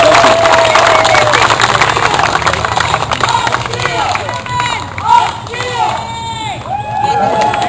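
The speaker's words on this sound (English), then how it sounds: "Let's give them a round of applause too." An outdoor crowd at an anniversary commemoration of the Bay View Tragedy applauds and cheers arriving marchers, a broad wash of clapping and hubbub under speech from a public address system.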